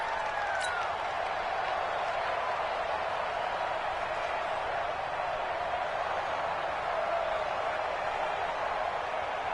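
Stadium crowd in a football video game, a steady dense roar of massed voices held at an even level throughout, with faint whistles and tones breaking through now and then.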